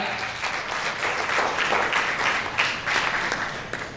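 Lively applause from an audience at a security conference, many hands clapping in a dense, uneven burst that swells in the middle and tapers off.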